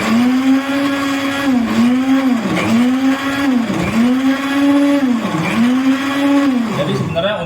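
An Advance BL-11 glass blender grinds spices at its top speed, its loud motor roaring steadily and surging in regular pulses about once a second as the load shifts.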